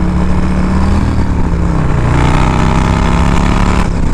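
A loud motorcycle engine revs close by, its deep droning note climbing slightly and holding steady throughout.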